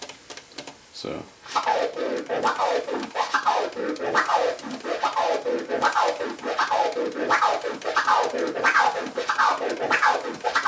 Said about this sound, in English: this is three click orbits, or you could call them three click flares